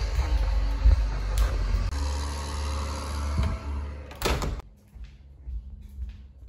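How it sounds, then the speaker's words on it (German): A holiday house door beside a construction site slides and bumps shut partway through, with a sharp knock, followed by a much quieter room. "Ich glaube, ich mache mal die Tür zu."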